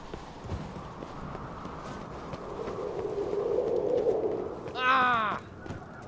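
Rhythmic hoofbeats of a galloping horse in The Witcher 3: Wild Hunt build under a low rumble, followed by a loud horse whinny near the end.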